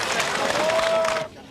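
A Greek community crowd at the Blessing of the Cross in Batemans Bay cheers and shouts outdoors, a brief noisy swell of voices that cuts off abruptly.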